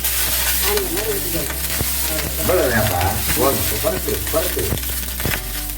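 Oil sizzles and spits on a hot new iron dosa pan while it is stirred and spread, a loud close crackling hiss that runs throughout. A voice speaks briefly over it.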